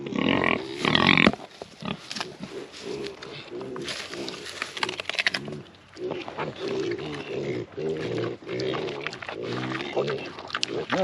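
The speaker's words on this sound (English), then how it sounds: "That was a happy pig." A happy pig eating cucumbers on a homestead, giving close grunts and snorts with chewing, mixed with a person talking nearby.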